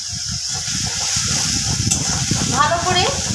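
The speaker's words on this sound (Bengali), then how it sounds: "ভালো করে কষিয়ে নেব" Spiced doi katla fish curry sautéing in a pan, giving off a steady, close sizzle with bubbling and stirring noises, while a voice speaks over it.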